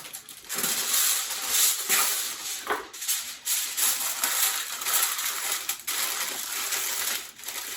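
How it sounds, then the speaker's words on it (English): Aluminium foil crinkling and crumpling close up as it is wrapped completely over a springform pan holding lasagna, a continuous loud rustle with sharper crackles throughout. "I'm going to cover it completely in foil."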